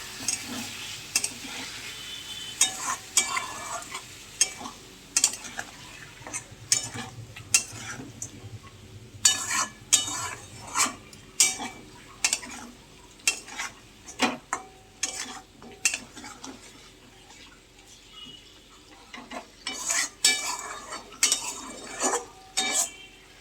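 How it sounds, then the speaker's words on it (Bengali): Spice paste with salt, turmeric and Kashmiri chili powder being stirred and fried with a little water in a pan for chicken curry, with a steady soft sizzle under repeated clinks and scrapes of a utensil against the pan. "এবারে এর মধ্যে একটু জল দেবো দিয়ে মশলাটাকে কষাবো"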